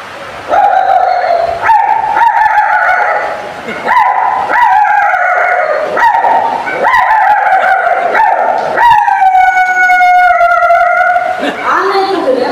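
A human voice imitating a brown dog, rendered as a run of loud, close, drawn-out howls and yelps with rising and falling pitch, repeated several times in succession without spoken words.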